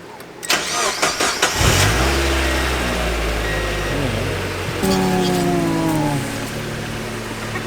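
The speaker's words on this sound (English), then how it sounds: "You only have to press the clutch in to turn it on." Mazda Miata engine starting with the clutch pressed: a few starter clicks, then the engine catches with a loud rising rev and settles into a steady idle, followed by a second brief rev, close and alone.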